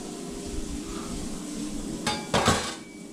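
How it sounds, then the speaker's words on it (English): Food being scraped off a plate with a scraper into a kitchen trash can lined with a new bag, heard as two short, sharp scraping bursts near the end over a quiet room hum. "I'm going to scrape this off and into the trash can."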